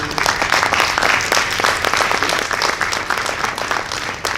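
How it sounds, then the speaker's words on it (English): An audience at a school board of education candidates forum breaks into a full round of applause, dense and steady clapping from many people that continues throughout. "And now we can give them a round of applause."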